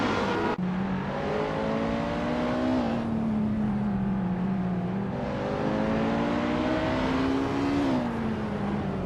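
Race car engines drone steadily on a tight track as the cars close in on each other approaching a corner, pitch rising and falling with throttle changes, loud and continuous with no voices.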